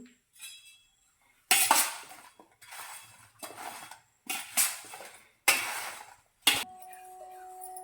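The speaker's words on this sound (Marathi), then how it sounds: "एक किलो आपली कैरी दोन चमचे हळद घालू आणि आता हे मिसळून घेऊ" Raw mango pieces, about a kilo, are tossed with two spoons of turmeric and salt for an oil-free pickle, giving several loud clattering bursts of stirring against a vessel, separated by short pauses.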